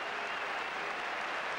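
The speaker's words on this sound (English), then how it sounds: "A generous round of applause, standing ovation for the outer" Cricket crowd applauding a century by Gundappa Vishwanath against Australia, a steady, dense wash of clapping filling the stadium without a break.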